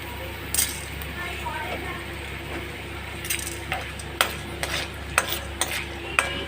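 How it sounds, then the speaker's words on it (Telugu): Chana dal frying with ajwain leaves in a pan, with a soft steady sizzle under a spoon stirring and scraping, plus several sharp clinks of metal against the pan. "ఒక రెండు స్పూన్లు పచ్చిశనగపప్పు వేసి ఫ్రై చేద్దామండి"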